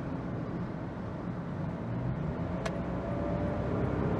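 Inside a small four-cylinder, gas-only car with weak pickup, floored on a Toronto highway: a steady, droning engine and road rumble, fairly loud and continuous, with no talk.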